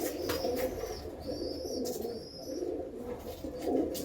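A flock of male pet pigeons coos steadily nearby, a soft rolling low warble lasting throughout, with a few thin chirps and a brief wing flutter mixed in.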